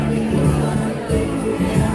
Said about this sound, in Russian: И бар, много-много людей, толпа людей, толпа детей.